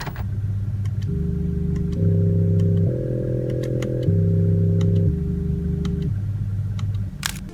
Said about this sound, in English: reintroduce the missing engine sound into the cabin, artificially. Here's what that sounds like.